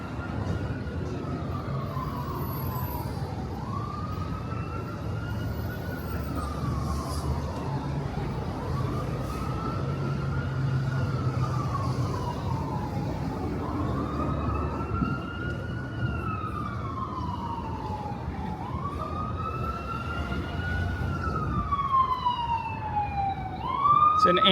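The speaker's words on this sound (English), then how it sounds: "It's an ambulance." An ambulance siren wails on a Brooklyn street, rising and falling in slow repeated sweeps, growing louder and closer over the city traffic hum, with a brief horn-like burst near the end.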